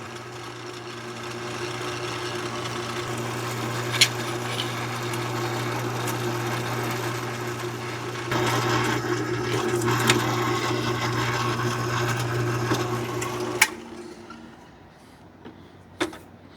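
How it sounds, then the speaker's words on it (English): An electric drill boring pin holes into a metal shaft runs in a steady motor whine for about thirteen seconds with a few sharp clicks, then cuts off, leaving faint rustling. "Now we gotta drill this shaft for pins"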